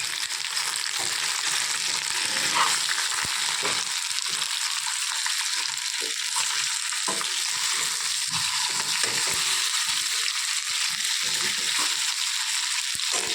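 Taro roots fry in oil for a Telugu chamadumpa curry, a loud, continuous, close hiss of bubbling oil that holds steady throughout with faint crackles.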